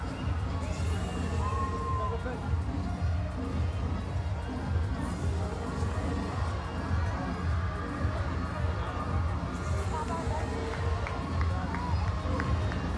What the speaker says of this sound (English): Crowd, they're loving it, celebrating the victory.